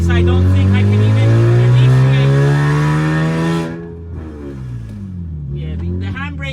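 A Lexus IS200 with an ineffective handbrake drifts sideways, its engine holding a loud, steady rising rev before easing off and climbing again, tires squealing, close and intense.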